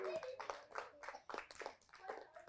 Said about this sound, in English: Clap for Mair!